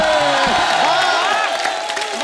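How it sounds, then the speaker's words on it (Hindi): A studio audience at a Hindi comedy show applauds and cheers loudly and continuously, with whoops rising over the clapping and a few voices mixed into the crowd noise. "सर, इसके लिए खड़े होकर ताली बनती है"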